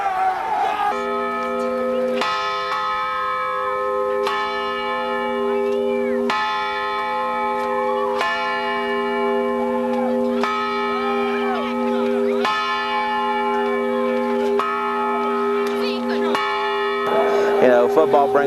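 A high school football victory bell rings out over and over, loud resonant clangs about every two seconds with a long ringing hum between strikes, crowd voices faintly underneath.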